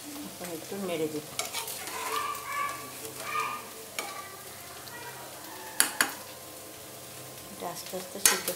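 A spoon scrapes and stirs egg and potato curry in a pan, with repeated rhythmic strokes and a few sharp clanks over a soft sizzle close by.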